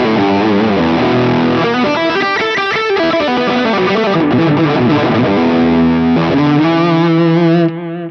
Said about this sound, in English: A nice subtle delay there.